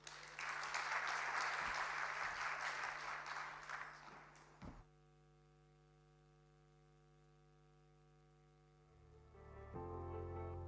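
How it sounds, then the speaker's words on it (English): A dinner audience applauds in a steady burst of clapping for about four seconds before it fades out, leaving low electrical hum, then a murmur of crowd noise returns near the end. "Let's please give Madam Letitia a resounding round of applause."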